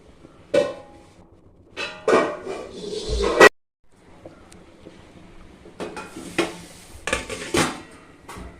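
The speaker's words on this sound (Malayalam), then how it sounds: "നമുക്കിത് അടച്ച് വെച്ച് മുകളിലൊരു വെയിറ്റ് എന്തെങ്കിലും വെച്ച് സിമ്മിലിട്ടൊന്ന് വേവിച്ചെടുക്കാം" Metal pot and lid clatter while a dum biryani pot is covered and weighted down, several sharp clanks and scrapes spaced irregularly with a heavy thunk, close and loud, no speech.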